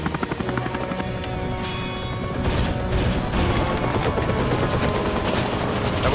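Helicopter rotor with a suspected fault, a loud close pulsing thump that beats rapidly and steadily, with rattling and mechanical clatter mixed into the drone.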